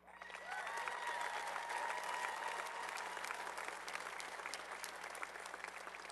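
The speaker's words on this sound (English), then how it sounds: "I would like our graduates to help me recognize and acknowledge our faculty and administrators seated on either side by a round of applause." A large crowd applauds faculty and administrators at the 2012 Casper College graduation ceremony, with dense, steady clapping that holds at full strength for about six seconds and no talk over it.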